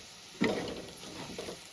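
Cumin powder stirred into onions frying in a pan, with a soft scrape of the spoon followed by a steady low sizzle that runs throughout, fairly quiet and with no talking.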